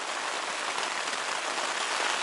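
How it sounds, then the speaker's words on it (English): Rain falls steadily during a bicycle tour in Hokkaido, a constant dense hiss of drops on surfaces nearby, with no voices. "it's still raining"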